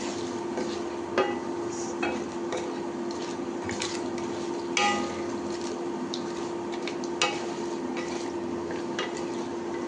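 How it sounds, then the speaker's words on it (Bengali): Food sizzles gently in a pan with a steady hiss, broken by occasional scraping taps of a utensil stirring. "তাহলে আমি একটু বেশ কড়া করে ভেজে নিই"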